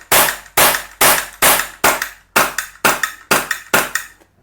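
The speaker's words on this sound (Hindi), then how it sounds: "मैं फिर से आपको फायर करके दिखाते हैं। हम इसको फायर करेंगे" Camstar Star RX air gun firing pellets, nine sharp close cracks in an even rhythm about half a second apart, each ringing briefly before the next, the last one fainter.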